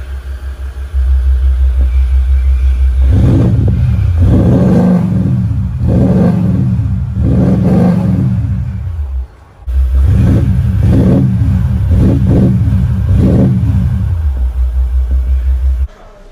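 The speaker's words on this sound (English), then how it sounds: "Now let's listen to the exhaust." Maserati Levante Q4 SUV with a quad exhaust, revved repeatedly up close: a loud deep idle rumble broken by a run of sharp rhythmic throttle blips, a brief drop, then another similar series of revs.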